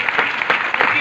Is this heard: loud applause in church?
yes